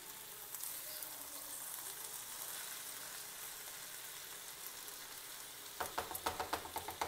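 Vegetable ragout with tomatoes sizzles softly in a pan with a quiet, even hiss. Near the end, a quick run of rhythmic scraping knocks comes from stirring.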